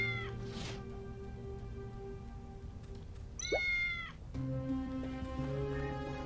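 Cat meows from the video game Tales of the Neon Sea, a few clear tonal calls, one rising sharply in pitch, set over a steady layered game music bed with no talking.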